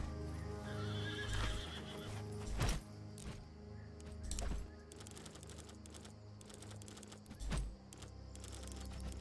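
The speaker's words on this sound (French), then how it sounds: "Et le poney blanc." In the video game Expeditions: Rome, a white pony whinnies and its hooves clip-clop, quiet and close, with several neighs spread across the clip and faint keyboard clicking underneath.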